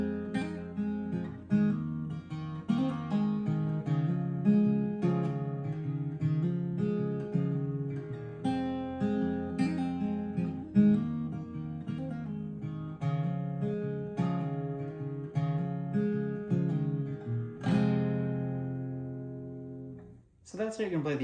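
Acoustic guitar plays the intro of a song in an easier arrangement, steady picked and strummed chords in a repeating pattern, close and moderately quiet, ending with a brief pause.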